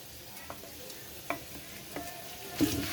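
Onions already browned are fried with ginger-garlic paste, cumin and spices for a beef and vegetable khichuri. A faint, quiet sizzle carries sparse light stirring ticks, ending in a louder scraping stir.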